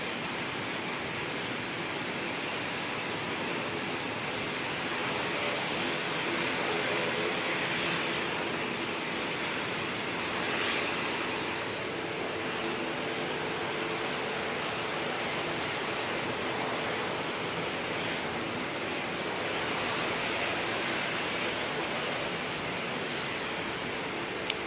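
An arriving airliner at Auckland Airport gives a steady, broad roar that holds at a constant level for the whole stretch, with no talking over it.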